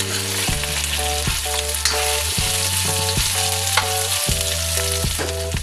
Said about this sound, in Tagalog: Ilalagay ko na ito ating pork. Halo ulit.